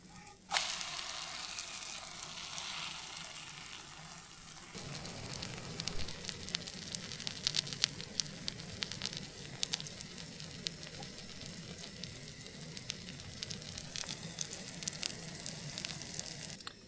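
Food frying in a pan at a solo backpacking night camp, a steady close sizzle with crackling pops that grows busier after a few seconds and continues throughout, no talk.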